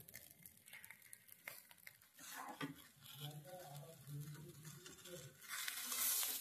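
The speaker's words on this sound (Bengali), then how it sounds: "চাল ডাল মশলা সমস্তটাকে আবার মিনিট 2 মতো ভালো করে কষে নেব" Rice, red masoor lentils and spices being fried and stirred in a pan over a high gas flame for khichuri, with a steady sizzle, scraping stir strokes and soft pattering. The sizzle grows louder toward the end.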